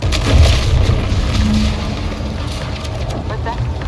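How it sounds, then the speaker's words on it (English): Explosion in the video game The Outer Worlds 2, a loud low boom with a rumbling tail that rolls on steadily and fades slowly, and voices talk over it. "An explosion?"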